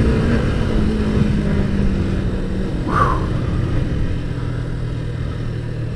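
A Kawasaki ZZR 250 motorcycle engine drones steadily and loudly throughout a test ride, a continuous low rumble with slight shifts in pitch suggesting changing revs, with no voices present.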